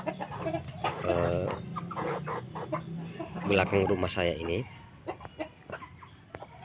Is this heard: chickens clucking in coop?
yes